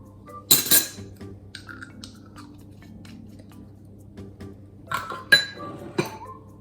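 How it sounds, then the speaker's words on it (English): An egg, milk and vanilla are beaten together with a fork in a bowl, giving a few bright clinks and scrapes in two short bursts around quieter gaps. "So you're beating your egg, your milk and your vanilla all together."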